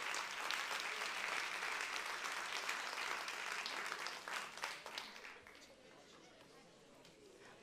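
A hall audience at a school short-film award ceremony claps loudly, a dense sustained round of applause that thins out after about five seconds, with some chatter beneath.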